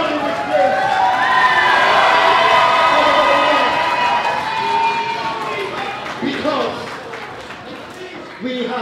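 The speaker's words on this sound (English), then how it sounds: "want everyone as well to start clapping their hands" Wrestling event crowd cheering, shouting and clapping at length, loud and dense, with children's shrieks and an announcer's voice over the din.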